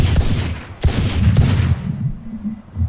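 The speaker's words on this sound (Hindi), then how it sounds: "हम यहाँ पे गोली चलाएंगे." Bursts of gunfire crack out in quick succession in the video game Valorant, with sharp loud shots at intervals followed by fading rumble and a low steady hum.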